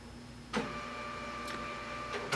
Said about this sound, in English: there's my laser printer. It is wireless.